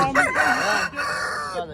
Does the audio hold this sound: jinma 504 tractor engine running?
no